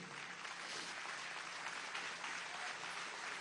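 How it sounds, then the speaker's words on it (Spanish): Audience applause at a swearing-in ceremony for the governors of Falcón and Yaracuy, a dense, steady wash of many hands clapping without pause for a few seconds. "vamos a darle un especial aplauso"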